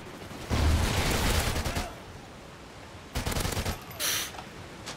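Rapid bursts of automatic fire from the Ripper gun in a first-person shooter video game, a long sustained volley followed by two shorter bursts, loud and close with no talk.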